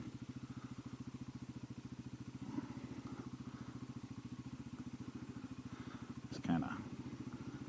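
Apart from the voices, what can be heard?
Genuine G400C scooter engine running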